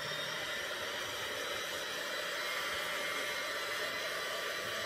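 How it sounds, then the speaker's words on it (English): A hand mixer whirs steadily through cupcake batter, a continuous even motor drone with a broad hiss, close and unbroken throughout with no talking. "I'm using my hand mixer because I want beginners to feel comfortable"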